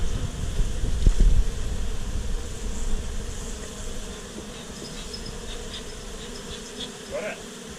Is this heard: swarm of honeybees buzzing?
yes